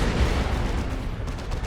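Heavy twin-linked lascannon fire from a Land Raider Phobos battle tank in the strategy game Dawn of War 2, a dense, continuous roar of booming shots and explosions that stays loud and fills the whole stretch with no voices.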